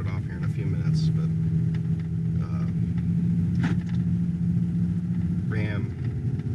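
A 2019 Ram 3500 dually pickup with the HO Cummins diesel climbs a 6% grade, its engine holding a steady, loud, low drone with a constant hum throughout.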